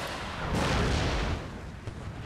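A deep cannon blast booms and rolls out, followed by another sharper shot a moment later, in the strategy game Empire: Total War with the Darthmod mod.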